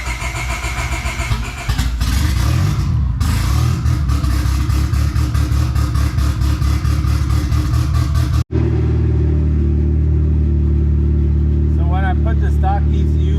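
A car engine running on fresh 91 octane fuel with octane booster starts up and revs loudly and close by, then cuts out briefly and settles into a steady, even idle, with a voice speaking over part of it.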